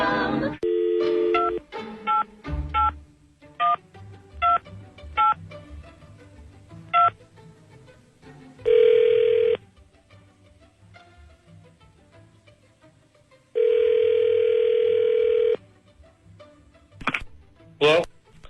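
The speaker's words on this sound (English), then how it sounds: "let's call up you-know-who here. Hang on a second. Dialing at random." A phone is dialed with a series of short touch-tone beeps, followed by two long ringback tones and a few more clicks and tones, close and clear, with faint voices underneath.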